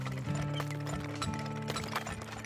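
Horse hooves clip-clop in a quick, even rhythm in the oil-drilling video game Turmoil, set against sustained tonal game music.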